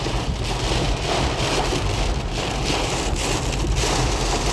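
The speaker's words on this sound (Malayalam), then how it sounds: "മഴ ഇവിടെ നല്ല മഴ, നല്ല കാറ്റ്" Heavy rain with strong wind pours down outside a car in Mysore, a loud, steady, unbroken roar of drops drumming the surface with gusty hiss, alone with no voices.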